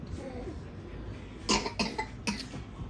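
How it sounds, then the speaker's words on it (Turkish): Several short coughs in quick succession, fairly close, over a low background murmur. "Kim öksürüyor?"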